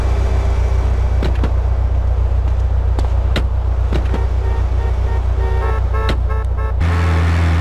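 Car engine idling steadily in GTA: San Andreas, with several sharp clicks and knocks of a door over the drone, then a change in the engine tone near the end; loud and close, no talk.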